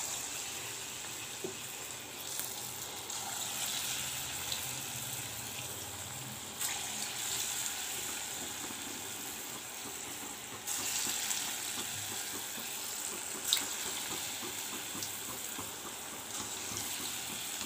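Small pinched pieces of dough frying in hot oil until crisp, a steady bright sizzle and crackle running throughout, with occasional louder pops and bursts, close and even in level, no speech.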